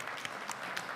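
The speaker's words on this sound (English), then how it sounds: "Another round of applause for Richard." Audience applause following a talk at a conference on LoRaWAN and city IoT projects, brief, fairly faint and distant clapping with a few sharper individual claps standing out.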